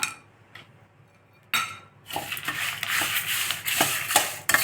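A lump of asafoetida roasting in a pan for puliyodharai, with a few metal clinks, then a steady dry sizzle broken by spoon scrapes and taps, close.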